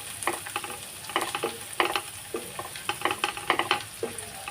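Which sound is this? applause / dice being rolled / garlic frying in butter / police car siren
garlic frying in butter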